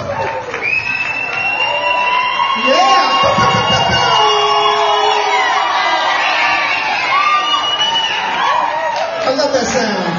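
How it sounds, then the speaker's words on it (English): An audience at a Tacoma artist showcase cheers, whoops and claps, with shouts and high yells rising over sustained applause that stays loud for the whole stretch, while a voice talks over the noise. "Keep on clapping. Keep on clapping."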